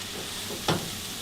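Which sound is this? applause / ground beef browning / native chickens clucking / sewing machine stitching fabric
ground beef browning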